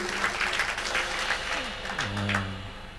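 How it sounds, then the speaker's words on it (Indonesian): Steady applause for the musicians from a church congregation fills the whole stretch, with a low musical tone gliding downward and sustaining near the end. "Boleh beri tepuk tangan lagi buat teman-teman pemusik."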